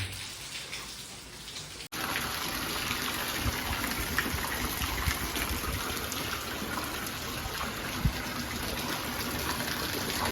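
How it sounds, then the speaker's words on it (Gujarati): Heavy rain pours in a dense, steady roar that jumps in suddenly after a brief quieter moment, then holds at an even level with no voices. "આજે વરસાદ ફૂલ ચાલુ છે બારે જોઈ લો"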